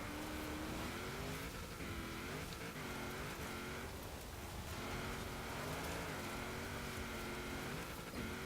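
A modified 1959 Cadillac Eldorado Biarritz Convertible built for extreme offroad driving in a Forza video game, its engine droning and rising steadily as it accelerates, loud and continuous with no talk.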